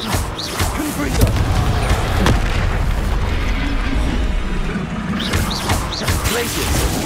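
Confringo blasting spells burst in a Harry Potter video game duel, a dense run of booming impacts and crashes with mechanical clatter, loud and close, while a voice speaks amid the combat noise.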